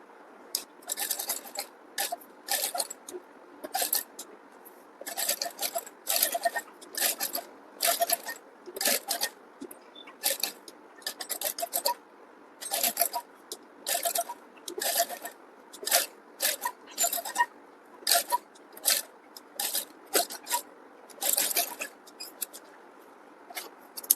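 A sewing machine stitches a blouse neckline just beside the embroidered work. It runs in many short, rapid bursts with brief pauses between them, close and fairly loud, and no one speaks.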